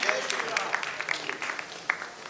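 An audience in a convention hall at a summit event claps in a short scattered burst, the individual claps distinct and moderately loud, with speech running alongside.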